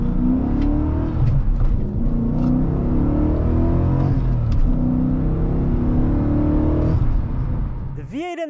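Around 400-horsepower V8 of a roughly 20-year-old BMW M5 droning steadily while driving in traffic, with rising and falling pitch under light revving; the engine tone stays loud and continuous, and a brief high whine appears near the end.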